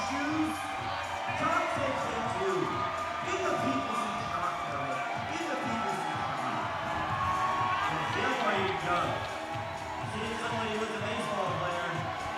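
Crowd cheering and shouting at the final round of the 2017 Sport & Speed Open National Championships climbing competition, a steady, moderately loud mass of voices and whoops with commentary running over it throughout.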